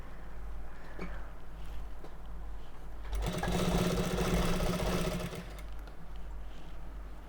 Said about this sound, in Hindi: और बिल्कुल किनारे पे सिलाई लगानी है। सिलाई को यहाँ पे पक्का कर देंगे।